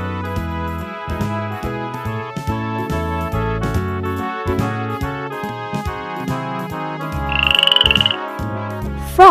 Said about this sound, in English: frogs take in air through their wet skin.